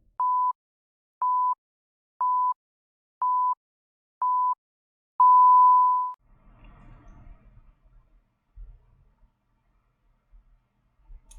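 A countdown timer beeps five short, evenly spaced tones about once per second, then a final long tone, leaving faint low rumbles behind.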